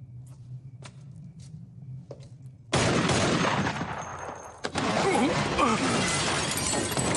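Gunfire in a Supernatural episode: a loud, sustained burst of rapid shots and crashing impacts that breaks in after quieter scattered clicks, dips briefly, then resumes just as loud.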